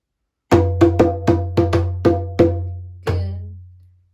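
A djembe sounds a clean pattern of eight sharp, resonant strikes: a quick run of seven evenly spaced hits with a slight skip midway, then a final stroke after a short pause that rings out and decays alone.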